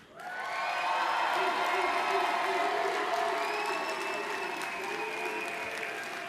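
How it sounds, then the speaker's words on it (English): A large conference audience applauds a general session host state, steady dense clapping with some cheering that rises quickly and holds loud throughout. "I want us all to give a big applause to the host state of Washington."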